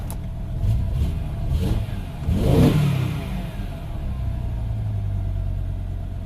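A 2005 BMW M5 with its S85 V10 engine, intake cover not fully fitted, runs near at idle and gets a couple of quick revs that swell and fall back to a steady rumble.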